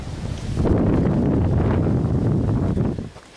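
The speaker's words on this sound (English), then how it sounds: "and the wind's blowing." Wind buffets outdoors near a Denali, a swelling roar that builds, holds and then drops away near the end, loud and close with no speech.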